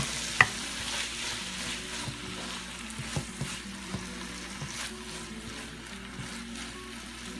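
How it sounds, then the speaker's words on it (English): Carrot and condensed milk being stirred in a pan for gajar ka halwa, giving a soft continuous sizzle with occasional scraping clicks and taps of a spoon, fairly quiet and steady with no talking. "mix the carrot and the condensed milk nicely"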